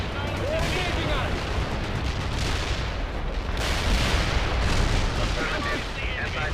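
Artillery strike landing in the World in Conflict video game: a dense, continuous barrage of booming impacts and rumbling blasts, loud and steady throughout, with faint radio-style voices mixed underneath.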